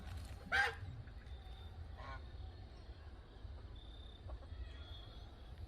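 A free-range goose on a homestead yard gives one honk early on, followed by faint scattered calls over low outdoor background rumble.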